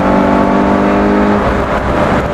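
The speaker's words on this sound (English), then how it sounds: "So down change, bit of heel and toe, power around the corner" Lotus S1 sports car with a Honda K20a engine on a country road, loud and close: a brief steady engine note breaks off into a downshift, then rough, rising acceleration.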